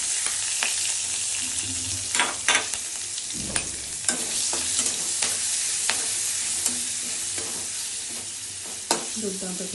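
Crushed garlic and two green chillies fry in hot oil with cumin in a pan, giving a steady close sizzle broken by sharp spoon scrapes and clinks as the mixture is stirred. No one speaks.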